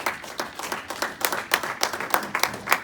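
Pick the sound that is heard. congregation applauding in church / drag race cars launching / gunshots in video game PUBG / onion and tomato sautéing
congregation applauding in church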